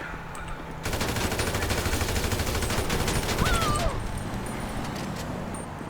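Sustained automatic AK rifle fire in the video game GTA V, a loud continuous rapid rattle of shots lasting several seconds after a brief quieter start.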